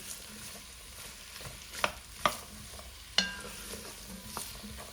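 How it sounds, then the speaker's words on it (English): Vegetables for tomato soup sauté in a pan with a faint, low sizzle, broken by a few sharp spoon scrapes and taps. "I'm just gonna leave this to saute until all the vegetables are nice and soft"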